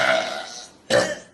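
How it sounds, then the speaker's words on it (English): A loud, close burp from a student in a burping contest with a teacher, one long drawn-out belch followed by a brief pause and a second short, forceful burst. "I need one more phenomenal burp."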